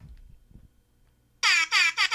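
A man imitates an air horn with his voice, giving three loud, blaring honks in quick succession after a stretch of near silence.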